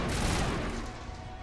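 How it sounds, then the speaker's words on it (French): Continuous rapid gunfire in the Mass Effect video game, a dense loud burst of shots that holds steady and fades slightly toward the end. "Je rate toutes mes balles."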